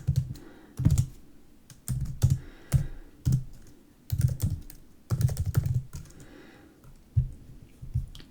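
Python code being typed on a computer keyboard, bursts of quick close key clicks separated by short pauses, with no talking.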